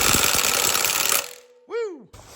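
An impact wrench drives the harmonic balancer bolt on an Iron Duke engine in a Grumman LLV, a loud rapid hammering burst for just over a second, followed by a brief exclamation.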